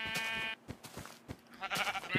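A sheep in a video game bleats in short wavering cries, two clear bleats separated by soft thuds and clicks, moderately loud with no talk.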